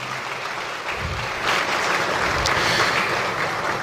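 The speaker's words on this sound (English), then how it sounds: "Please let the applause be louder." Audience applauding at an International Women's Day event, a dense, steady patter of many hands that swells a little partway through and holds loud until the end, with no talking over it.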